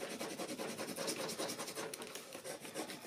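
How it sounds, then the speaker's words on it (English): A bone folder rubs firmly back and forth over vellum paper laid on cardstock, giving a steady, close scratchy rasp with quick repeated strokes and no voices. "I'm using my bone folder. I give it a good rub"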